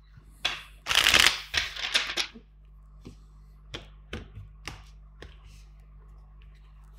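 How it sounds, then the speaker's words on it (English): Tarot cards being shuffled: a dense riffling burst near the start, followed by several sharp, separate card taps and flicks, close and fairly quiet with no talking. "Two more shuffles."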